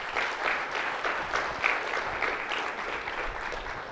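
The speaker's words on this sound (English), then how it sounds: "A round of applause for the guts that these guys showed." Steady audience applause at a mortgage business technology event, many hands clapping together in an even, moderately loud wash that lasts the whole few seconds.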